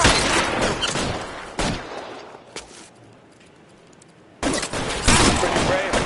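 Bursts of video game gunfire from L.A. Noire, loud dense volleys at the start and end with a quieter gap in the middle, mixed with shouted game dialogue.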